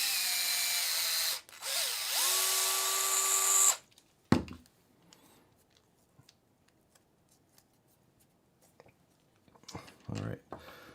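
Threading a hole with a tap in a Vanquish Ripper RC car part: a loud, whirring tool burst of a few seconds, then quiet with faint scattered clicks and scrapes.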